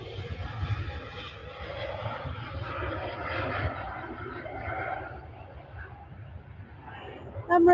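An Emirates airliner takes off at Manchester Airport, a distant, sustained roar of jet engines that rises and then slowly fades, with people talking in the background.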